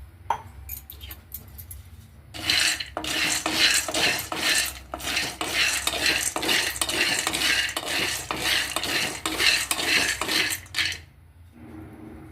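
Peanuts roast in a pan over a stove, stirred with a utensil in a steady run of scraping, rattling strokes that start abruptly, continue for about eight seconds, then stop.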